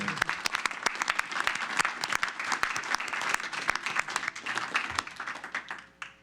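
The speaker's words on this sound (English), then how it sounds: "let's please give them a round of applause" An audience at a city council meeting breaks into sustained applause, a dense crowd of hand claps that fades out near the end.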